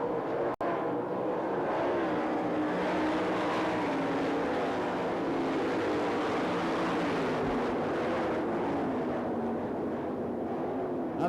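Sprint cars race at the Knoxville Nationals, their engines producing a loud, continuous roar that fills the whole stretch without fading.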